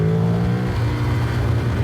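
A modified Ducati Streetfighter 1098 S roadster, a tuned twin producing 155 horsepower, pulls hard under steady acceleration, its engine note loud, continuous and close, rising then holding.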